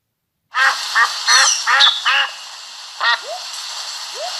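A duck quacks in a quick series of loud, nasal calls close by, with a few more spaced quacks trailing off afterward.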